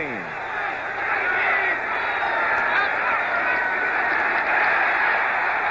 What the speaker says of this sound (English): The crowd comes alive on 2nd and 17.